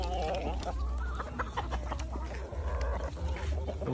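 Rhode Island Red and Black Australorp chickens cluck and squawk on a farm, a steady busy chorus of birds close by with overlapping calls and faint voices in the background.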